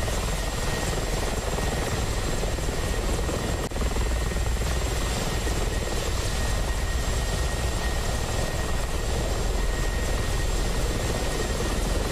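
A Mi-24P Hind helicopter hovering over cargo in the DCS World flight simulator, its rotors and engines making a dense, steady roar that stays constant for the whole stretch.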